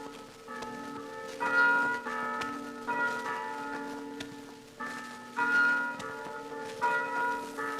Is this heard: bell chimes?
yes